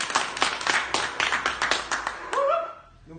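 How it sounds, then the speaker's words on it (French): Scattered clapping from a small audience congratulating a young singer, uneven claps for about two seconds, then a short voiced sound as it trails off. "Vous pouvez l'applaudir"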